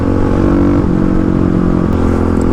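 A Kawasaki KLX351 dirt bike pulls hard in sixth gear, its engine droning loud and steady at close range with a slight pitch shift as it accelerates, no voices over it.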